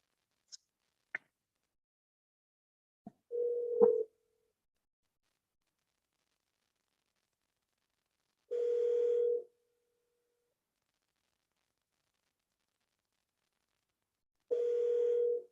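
A telephone line before a call: a few faint clicks, then three steady one-second tones spaced several seconds apart across near silence, with no voices.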